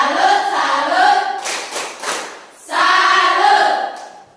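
A classroom of children clapping in a chant rhythm, bursts of hand claps mixed with voices, a short pause midway, then another loud round of clapping.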